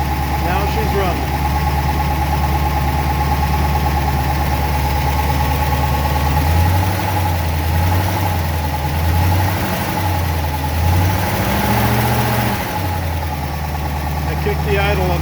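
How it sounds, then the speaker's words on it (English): A Studebaker Avanti engine idling just after being started with starter fluid fed toward the carburetor, a steady close low rumble with a faint pulsing wobble partway through, and someone talks over it. "A couple shots of starter fluid, so we got some fuel up to the carburetor, and now she's running."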